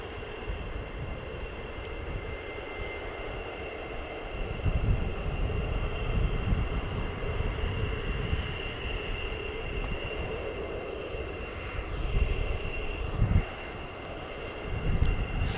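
A military jet at RAF Lakenheath produces a sustained distant engine roar and rumble, steady with gentle swells over a low broadband background.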